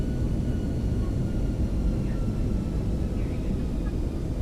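Boeing 737-900 on approach in the X-Plane flight simulator, a steady, dense engine roar with deep low rumble, constant and unbroken throughout, with no distinct events standing out.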